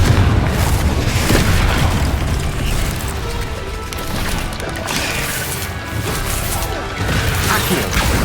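Repeated Confringo spell blasts in Hogwarts Legacy, dense booming explosions and crashes layered over continuous loud game noise, with bursts recurring through the clip.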